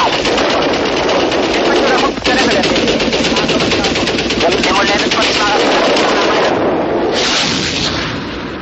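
Aircraft cannon and machine gun fire from Israeli gun camera aerial combat footage, loud sustained rapid bursts with a brief break near two seconds, dense and harsh throughout.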